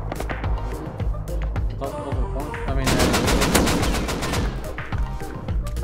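Rapid automatic gunfire rattles through a Rust tournament match in dense, overlapping bursts that build into a sustained volley, with voices talking over the shooting.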